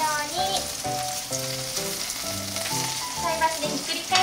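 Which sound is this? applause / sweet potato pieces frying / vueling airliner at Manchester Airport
sweet potato pieces frying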